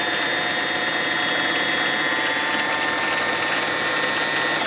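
A sewing machine runs steadily to wind thread onto a bobbin, a constant close mechanical whir that holds for the whole stretch with no talk over it.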